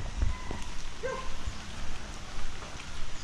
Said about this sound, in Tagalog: Uy, takbo na ulan.